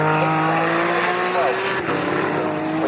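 GT Cup cars race at Snetterton with a loud, continuous engine drone that shifts pitch as the cars pass and change gear, while a commentator talks over the sound.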